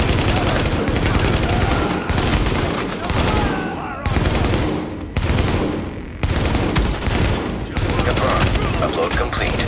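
Sustained rapid automatic gunfire from the video game Tom Clancy's The Division, loud and dense bursts with brief pauses, mixed with other game sounds throughout.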